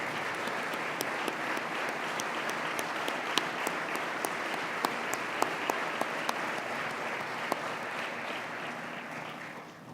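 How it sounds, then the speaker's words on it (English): An awards ceremony crowd gives sustained, even applause, with a dense wash of claps and a few sharp, louder ones standing out. It fades slightly at the very end. "Would you mind to give them a round of applause?"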